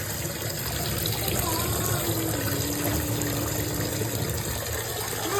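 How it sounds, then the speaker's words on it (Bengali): Tap water running steadily while fish and meat are washed in a home kitchen, a constant close splashing stream with faint background voices underneath. "অলরেডি মা মাছ মাংস সবই ধোয়া শুরু করে দিয়েছে"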